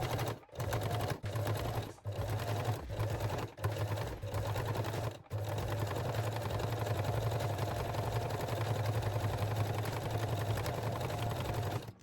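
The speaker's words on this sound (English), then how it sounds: "I will set my machine to zigzag and the width and length are on 2 out of 4" A sewing machine stitches a small zigzag seam on a garter belt at medium width and length, humming steadily and close with several short pauses early on, then running continuously.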